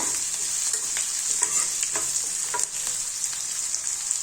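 Onions frying in a pan for curd sambar give a steady, close hiss of sizzling, broken by soft scrapes and taps of stirring.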